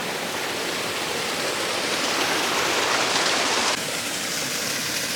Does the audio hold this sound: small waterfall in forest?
yes